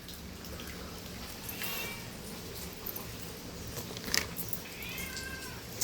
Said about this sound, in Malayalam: അത് പ്രസവിച്ച പൂച്ചയാന്ന് തോന്നുന്നു